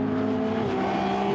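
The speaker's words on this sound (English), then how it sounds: "traditional V12 engine" An Aston Martin GT race car with a traditional V12 engine drones steadily at Monza during Blancpain GT Endurance Cup practice, a loud, sustained engine note that holds level with a slight pitch shift.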